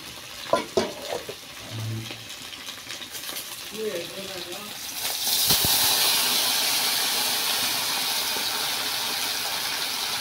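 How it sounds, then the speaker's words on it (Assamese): Pieces of fish rubbed with turmeric and salt go into a very hot wok. A few clanks and knocks come first, then a loud, steady sizzle takes over and keeps going. "তো এতিয়া মই মাছটো ভাজিবলৈ দিম।"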